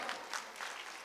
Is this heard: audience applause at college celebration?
yes